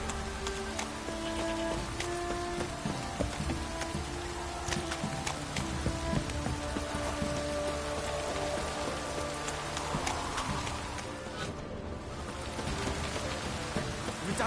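Steady rainfall in the video game Witcher 3, a constant dense patter on surfaces with faint scattered drips and ambient tones, no voices.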